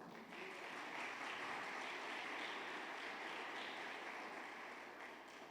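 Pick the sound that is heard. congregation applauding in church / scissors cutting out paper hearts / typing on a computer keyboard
congregation applauding in church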